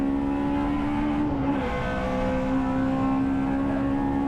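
Honda Integra DC2 Type R racing at Cadwell Park, heard from onboard: a loud, sustained engine drone holding steady revs, dipping briefly as a gear changes, then pulling on again under constant road and wind roar.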